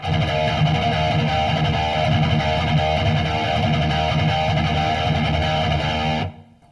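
Heavily distorted electric guitar plays a dense, driving rhythmic pattern for several seconds, then cuts off abruptly.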